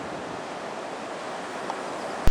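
Waves wash steadily onto an empty beach, a continuous broad rushing surf with some wind noise, ending in a brief bump close to the microphone.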